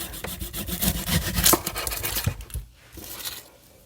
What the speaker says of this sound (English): Next up is my onion. Same drill, thinly sliced.